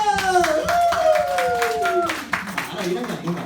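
A church congregation at a Sunday service claps in a quick, rhythmic series of sharp hand claps while a person keeps talking over them.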